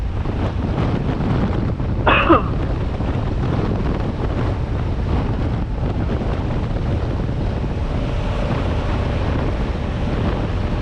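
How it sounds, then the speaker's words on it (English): Strong wind buffets the microphone in a constant low roar, with a brief rattling clatter early on and no clear voices. "it is windy out here"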